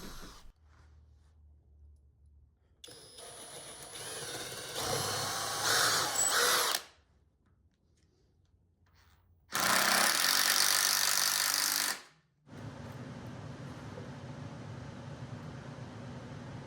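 A power tool driving bolts through a workbench top into its frame in a small workshop, two loud whirring bursts of several seconds each separated by quiet pauses, close by.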